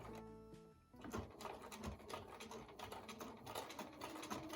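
A sewing machine stitches in the ditch along the binding of a mug rug, a steady whirring run of rapid needle strokes that starts after a short pause and continues evenly at close range.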